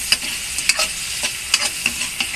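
Shrimp frying in a hot pan, a bright continuous sizzle close by, broken by several sharp stirring scrapes and crackles at an uneven rhythm.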